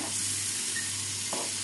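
Pork cheek fries in a pan for carbonara, a steady close sizzle of hot fat with a brief stirring scrape partway through.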